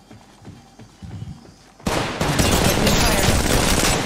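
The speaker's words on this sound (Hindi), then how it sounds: "स्नाइपर मार रहा." Sniper gunfire in Apex Legends Mobile, a sudden loud burst of shots with sustained rattling after quieter rumbling and faint voices, dense and close.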